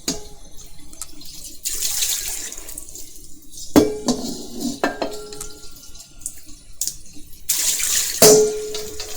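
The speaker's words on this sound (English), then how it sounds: "Now rinse out the wok because it's got soapy water in it." Tap water runs and splashes into a wok being rinsed of soapy water at a kitchen sink, with the flow starting and stopping and metal clanks and knocks of the pan in between, loud and close.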